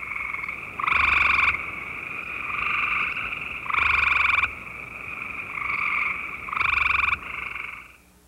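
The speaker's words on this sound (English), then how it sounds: "The sound made by the gray tree frog is a bird-like musical trill." A gray tree frog's bird-like musical trill repeats three times, loud and close, over a constant chorus of frogs.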